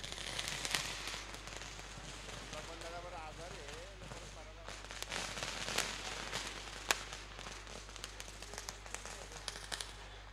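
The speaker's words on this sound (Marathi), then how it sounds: "फटाक्यांच्या आतषबाजीमध्ये हा क्रीडा सोहळा या ठिकाणी सुरू होताना आपल्याला पाहायला मिळतोय" Firecrackers and fireworks mark the opening ceremony of a local sports tournament, a dense string of sharp crackling pops and bangs going on steadily over a low hum, with voices talking underneath.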